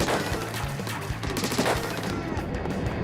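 Splatoon weapons firing at targets on the in-game shooting range, a fast run of rapid, punchy shots close up that thins toward the end.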